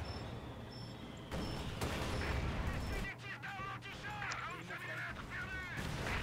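Artillery shells pound down in the video game Company of Heroes 2, heavy booms and crackling blasts landing in a dense barrage while players talk over the noise.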